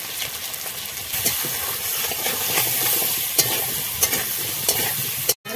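Turmeric and salt sizzle in a pan of hot oil, a steady close frying hiss broken by a few scraping stirs and light clinks, with a brief dropout just before the end.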